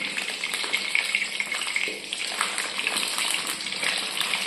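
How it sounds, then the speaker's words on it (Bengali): Paneer pieces frying in hot ghee at home, giving a steady, fairly loud sizzle and crackle that runs without a break. No one speaks. "পনিরগুলো ভেজে নেবো।"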